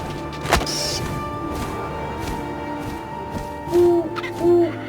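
An owl hoots in the video game What Remains of Edith Finch, two soft low hoots near the end over a steady wind-like ambient bed, with a sharp thump earlier.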